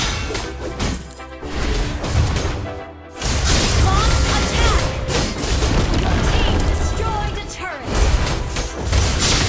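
Heavy booms and crashes as a turret is destroyed in Mobile Legends, mixed with continuous battle effects and game announcer voices over loud, dense skirmish sound.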